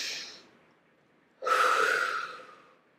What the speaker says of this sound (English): Let's breathe the air in through our noses and out from our mouths, like this. Let's take one more deep breath together.